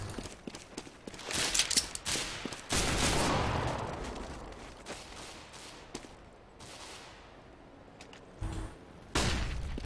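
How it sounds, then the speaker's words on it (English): A flashbang grenade in the video game CS:GO bursts among rapid gunfire and footsteps, a dense, loud stretch of combat noise with sharp bangs throughout. "That's a flashbang."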